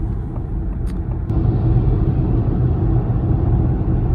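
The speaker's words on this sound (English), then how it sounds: "we are merging onto the freeway here. We're going to get up to 70" A Ford Mustang Mach-E Standard Range AWD accelerates while merging onto a freeway toward 70 mph, heard from inside as a steady low road rumble that steps up louder partway through, with no talking.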